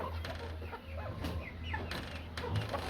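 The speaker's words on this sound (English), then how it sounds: "In here we have a mixed flock, crosses between Americana, Chanticleer, Cochin." A mixed backyard flock of crossbred Americana, Chanticleer and Cochin chickens clucks steadily on a small-scale poultry farm, overlapping soft calls and murmurs continuous and fairly close.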